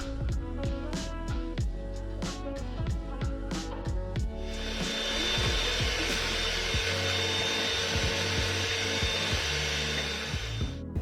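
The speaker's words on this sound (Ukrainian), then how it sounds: "додаємо цукор і збиваємо це все до утворення світлої пишної маси" Music plays at first. After about four seconds a loud, steady electric mixer starts up close, whirring as it beats eggs with sugar for a peach pie batter and holding its tone to the end.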